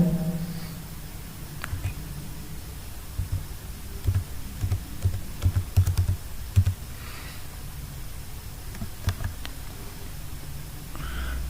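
Typing on a computer keyboard while writing inline style sheet code, heard as a faint scatter of soft clicks that bunches into a quicker burst midway through, with steady background hiss and no talk.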